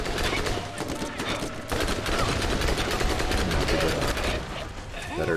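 Rapid corrosive SMG fire in the video game Borderlands, dense continuous bursts of loud shots with brief gaps, close and dominant, with a voice talking underneath.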